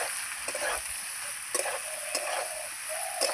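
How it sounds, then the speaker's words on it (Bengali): Tender ridge gourd, potato and spices frying together in a pan, with a steady hiss of sizzling oil broken by a few sharp scrapes of the spatula. "ঝিঙে আলু মশলা একসঙ্গে এবার কষিয়ে নেব ভালো করে।"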